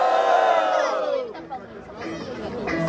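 Crowd at a Brazilian rap battle in Cuiabá roaring and cheering in a loud sustained wave of shouts and whistles that dips briefly midway, then swells again.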